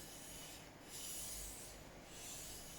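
A steel chisel is pushed back and forth on a wet waterstone during freehand sharpening, giving soft, faint rhythmic rubbing strokes, two slow swells of gritty swish.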